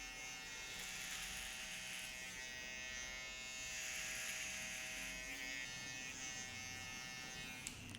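An electric hair clipper cutting a high fade hums with a steady, close buzz that swells and eases as it passes over the head, running continuously with a click near the end.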